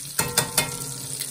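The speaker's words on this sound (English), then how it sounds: "Frying pretty well." Potato flautas fry in hot oil with a steady crackling sizzle, broken by three sharp stirring or turning clacks early on, close and without talk.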